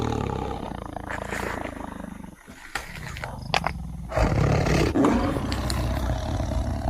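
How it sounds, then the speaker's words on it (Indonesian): A big cat, thought to be a leopard or tiger, gives deep rumbling growls and roars at night in the wild. The growls come in bursts, fairly close and loud, with a brief pause and then a heavier stretch. "kayak geraman. Ini macan apa harimau Bar"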